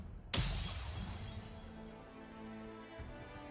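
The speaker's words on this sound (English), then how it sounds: "With a sound like shattering glass, Altruia's barrier erupts into pieces." In the video game Goddess of Victory: Nikke, an energy barrier bursts like shattering glass, one sharp loud crash followed by a long fading tinkle and low rumble.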